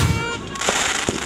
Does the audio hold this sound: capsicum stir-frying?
no